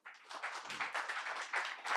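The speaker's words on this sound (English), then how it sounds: "let's give a round of applause to Collins" Applause from the audience at a security panel discussion meetup in Nairobi, a brief, dense burst of clapping that carries on evenly for two seconds.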